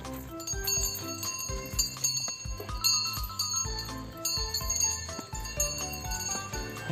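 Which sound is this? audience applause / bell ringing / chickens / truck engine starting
bell ringing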